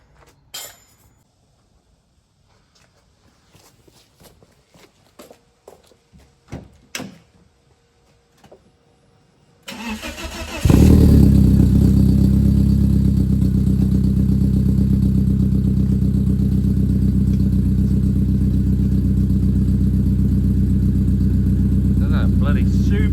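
Subaru car engine, on a budget winter fun car build, starts after several seconds of handling clatter and clicks, then cranks and catches into a loud, steady rumbling idle that runs on continuously.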